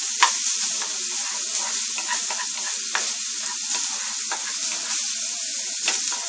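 Roasted corn cooks in a hot pan for chicken empanadas, a bright continuous sizzle with frequent light crackles and spoon taps, close and clear with no talking.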